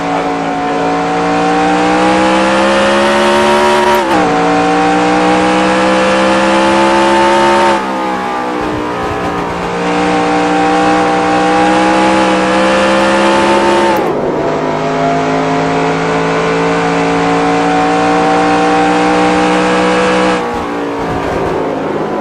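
A race car in NASCAR Racing 2003 runs a lap with a loud, sustained engine drone that climbs steadily in pitch through each straight, then drops sharply at gear changes or corners several times.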